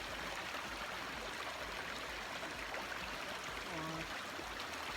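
A clear mountain river rushes along near the Rakaposhi base camp trail, snow-covered peaks around, giving a steady, dense broadband roar of flowing water at close range with no other sounds standing out.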